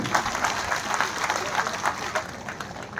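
Audience applause at a political gathering, a dense steady patter of many hands clapping together, moderately close and continuous from start to finish.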